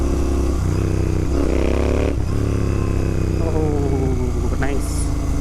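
A 2023 Royal Enfield Continental GT650 café racer pulls hard, its engine note climbing through several gear changes close by, with a steady rumble underneath.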